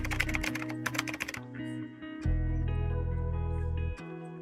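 Typing on a computer keyboard, with quick clusters of key taps over steady tonal background sounds. The taps then give way to a longer low sustained tone.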